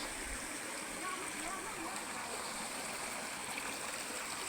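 Waterfall at a Lang Suan area falls pouring over a rock face, a steady broadband rush of water that stays loud and even throughout with no break.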